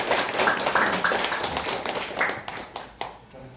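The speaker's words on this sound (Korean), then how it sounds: "한꺼번에 박수로 다 소개하도록 하겠습니다" Audience clapping at a Korean farming seminar as assembled elders and a vice chairman are acknowledged; dense applause at first, thinning into scattered claps by the end.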